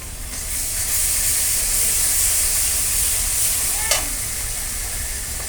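Garlic, ginger and cumin pastes sizzle loudly in a pan for a bhuna, a close, continuous frying hiss with steamy crackle and one brief clink near the end.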